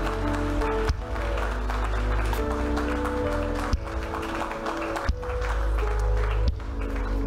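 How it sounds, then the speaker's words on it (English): Church congregation clapping together at a service, a dense continuous wash of many hands with a few louder accents, steady and loud throughout. "keep on clapping"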